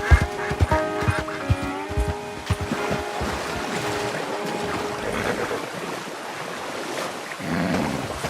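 Geese honking by the shore in a Red Dead Redemption 2 game scene, repeated nasal calls over steady surf and wind, moderately near, with no talking.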